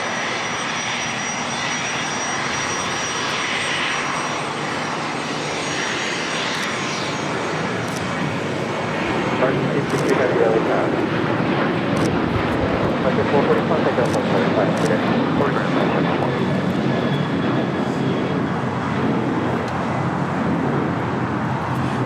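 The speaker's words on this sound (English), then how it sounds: "This is American Airlines 1305 taking off back to Dallas Fort Worth on a 737-800 Astrojet Retro livery" An American Airlines Boeing 737-800 in Astrojet retro livery takes off at LAX, its jet roar swelling midway and holding as a steady broad rumble, with voices talking throughout.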